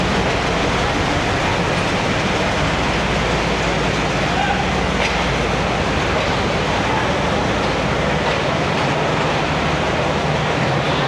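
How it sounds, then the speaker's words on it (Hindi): The Karakoram Express rake pulling into a platform, a loud continuous rumble and rattle of coaches rolling past close by, with faint clicking from the wheels throughout. "3:28 और फाइनली 42 डाउन कराक्रम एक्सप्रेस का रेक लग रहा है।"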